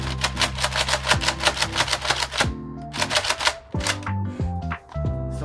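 A Nerf Elite Rampage pump-action blaster is slam fired in a rapid run of sharp mechanical clacks and pumping rattles, close and loud, then slows into a few spaced shots and pumps.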